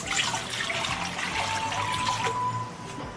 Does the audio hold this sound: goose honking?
no